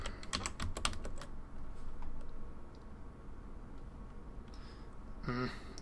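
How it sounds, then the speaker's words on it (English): Computer keyboard typing in a quiet room, a quick burst of clustered keystrokes near the start, then scattered single clicks, ending in a brief louder rustle. "you can just type lambda"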